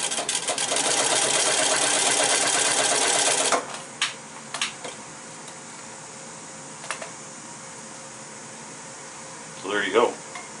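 A Singer 31-15 sewing machine driven by a servo motor runs at about 200 RPM with a steady, loud mechanical whir for several seconds, then stops, leaving faint clicks and a brief voice.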